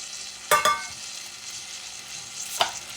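Aloe vera pieces frying in hot oil for homemade hair oil, with a quiet continuous sizzle broken by two sharp spattering pops or stirring clatters, no talking.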